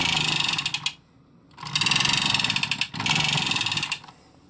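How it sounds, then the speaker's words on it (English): A Masters of the Universe Origins Land Shark toy vehicle pushed back and forth gives rapid ratcheting clicks in three close bursts separated by brief pauses. "As you push it front, forward or backwards, makes the little clicking noise"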